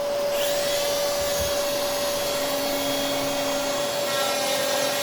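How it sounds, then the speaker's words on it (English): A trim router hogs wood out of a hinge mortise on a furniture piece, a loud steady high-pitched motor whine with a constant tone running throughout, close and alone with no talk. "To do the mortising, I first started with the trim router to hog out the majority of the material"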